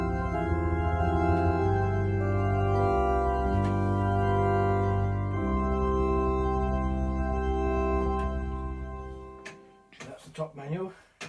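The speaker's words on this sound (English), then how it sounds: "Now if you blend it in with the 2 feet, it will sound like this with some pedal, 16-foot bass." Electronic organ with 2-foot stops blended in and 16-foot pedal bass, sustained chords over a deep bass line held for several seconds before cutting off, followed by a brief spoken voice.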